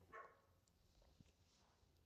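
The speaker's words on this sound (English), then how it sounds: "Damn dog." A single dog barks briefly at the start, faint and somewhat distant, in a quiet indoor room, with a small clatter near the end.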